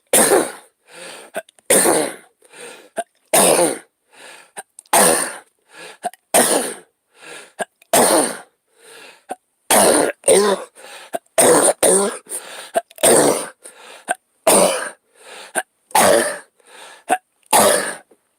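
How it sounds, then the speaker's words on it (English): A person with a bad cough hacks and clears their throat over and over, loud and close, in harsh bursts separated by brief pauses and sometimes landing in quick clusters. "I got a really bad cough."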